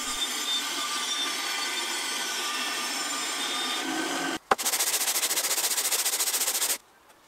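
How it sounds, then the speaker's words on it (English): A bandsaw cuts an oak board with a steady loud whine and hum, close by. Partway through, a short break comes before a denser, rougher cutting sound, and then it stops abruptly, with no talk. "I salvage the back of what will be the topmost board on the bandsaw"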